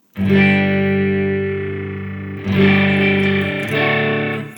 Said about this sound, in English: get that really kind of intense chorusing sound